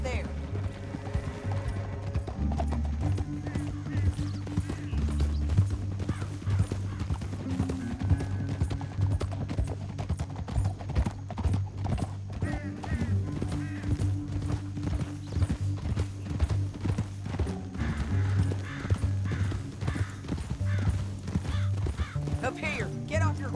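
Horses trot along a canyon trail in Red Dead Redemption 2, their hooves clip-clopping in a steady rhythm with an occasional whinny, under background music and game voices talking.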